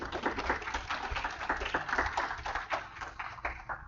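An audience at an electronic gaming industry presentation claps briefly, a scattered, moderately quiet round of applause from a small crowd.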